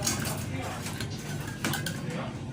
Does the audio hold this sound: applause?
no